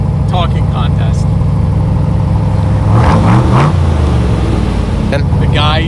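A 1967 Corvette C2 with a 427 Tri-Power V8 rumbles and revs beneath a voice, its engine note swelling briefly midway while he keeps talking.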